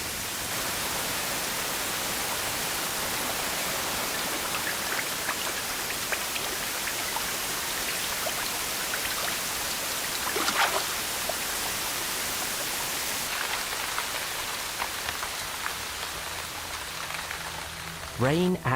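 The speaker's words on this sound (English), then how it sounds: "By November, the first rains arrive." Steady rain falls in a wild savanna landscape, a dense, even hiss of drops on surfaces that continues without pause, with a faint voice near the end.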